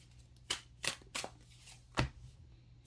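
Tarot cards from a modern love deck being drawn and handled, a few soft close papery flicks and slaps in quick succession, then one louder snap, alone and quiet.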